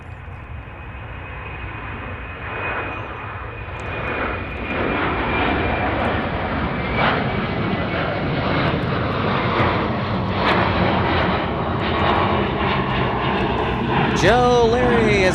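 An American Airlines airplane at Chicago O'Hare International Airport, a loud jet engine roar that builds and holds steadily, with a descending whine and a brief voice near the end.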